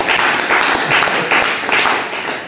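A church congregation applauding and cheering in praise, with steady, loud clapping filling the room.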